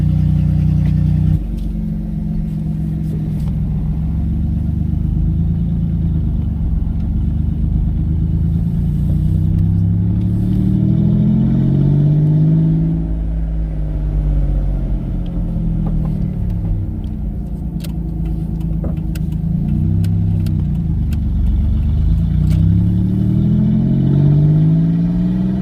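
A twin-turbo V6 Ford Mustang drives along after a fuel pump swap, its engine rumbling steadily and rising and falling as it accelerates and shifts, heard loud from inside the car.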